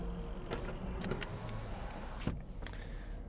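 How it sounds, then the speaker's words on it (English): Electric power window on a Subaru Impreza RS, a steady motor whir lasting a few seconds at close range inside the car, with a faint click or thump near the end. "Let's roll down the window and hear the sights and sounds."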